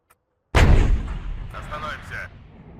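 A single loud tank main gun shot in the WARNO military strategy game, a sharp blast followed by a rumbling tail, with faint crackles as the echo fades.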